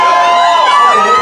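A rock-night audience at a Boston music venue whoops and cheers in a loud, dense burst of voices, with clapping mixed into a brief, sustained roar.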